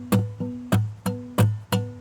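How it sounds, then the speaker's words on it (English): A solo acoustic guitar plays a repeating strum pattern: a plucked bass note followed by a bright downward rake, about six strokes in an even rhythm. "the strum pattern, it sounds like this"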